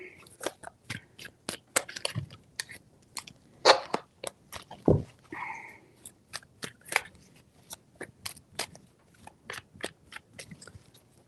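Repeated riffling shuffles of a deck of reading cards, crisp rapid flutters in short bursts with brief pauses between, close and fairly quiet.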